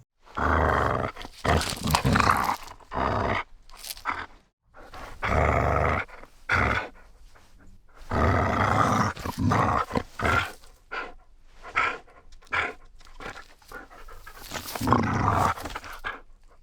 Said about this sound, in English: we also make use of actors, in this case Kieran's dog, Roland.